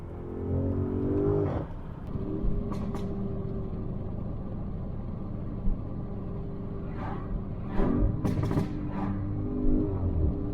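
A Porsche Cayenne Turbo S hybrid's engine rumbles steadily from inside the cabin, with short revving blips as it downshifts, loud and continuous with no talking.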